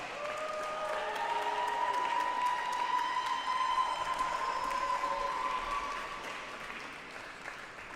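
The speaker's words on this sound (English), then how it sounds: "Let's have another round of applause for the Master of Music degree recipients." An audience at the Manhattan School of Music commencement ceremony applauds Master of Music degree recipients with sustained, even clapping that fades toward the end while a faint tonal hum runs underneath.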